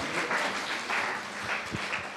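A round of applause for the Startup Club at a school club expo, a soft, steady patter of many hands clapping for a couple of seconds, heard from a distance.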